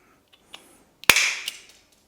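A stapler fired for distance in a hallway: a few faint clicks, then one sharp, loud snap with a brief bright metallic ring that fades over about half a second.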